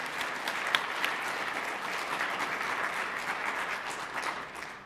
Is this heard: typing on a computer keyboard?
no